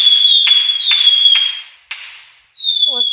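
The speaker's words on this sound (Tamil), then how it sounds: "ஒரு சில வெடியெல்லாம் வெடிச்சிடுச்சு கைஸ்" Firecrackers in the Diwali Simulator video game whistle and crack in quick succession, several sharp high whistling bursts with pops, loud and close, then a brief pause before another whistle.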